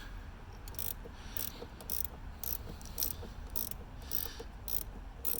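A ratchet loosening the negative battery terminal on a 2007 first-generation Chevy Colorado, giving a series of quick, evenly spaced clicking bursts close up.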